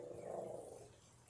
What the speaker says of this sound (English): Someone's coming into the area and my dog is barking.